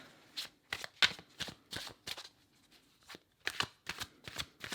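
Tarot cards being shuffled in quick, crisp riffling bursts, about a dozen short flutters with brief pauses between, close and fairly quiet.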